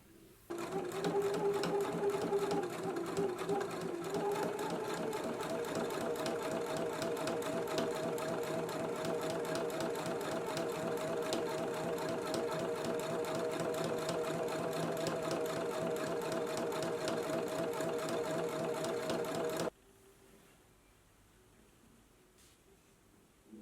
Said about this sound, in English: Now let's go to the sewing machine and we're going to stitch right here along this inner fold